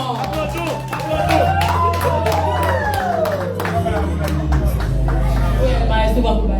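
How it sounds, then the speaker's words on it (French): Choir gathering clapping for a performer, a steady run of sharp hand claps layered over gliding voices and crowd chatter, close and loud throughout. "Les amis, applaudissez Maïs pour nous"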